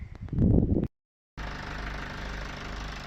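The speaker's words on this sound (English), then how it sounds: "We just need to turn the engine on" A car engine idles steadily during a DIY air-conditioning refill, a close, even rumble that runs continuously after a short burst of noise and a moment of silence.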